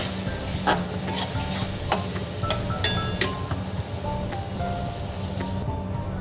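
Garlic paste is stirred and sautéed with fried onions in a pan, making a steady sizzle with repeated scraping stir strokes, close and moderately loud, with no talk.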